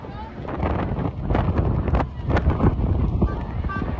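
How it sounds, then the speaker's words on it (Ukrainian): Strong storm wind buffets a bridge crowded with people during a storm warning, roaring loud and steady with gusty surges throughout, close to the microphone. "У нас тут штурмове попередження, реально просто жесть"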